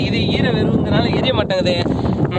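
Strong wind buffets the microphone in a rough, rumbling roar while a person talks continuously over it.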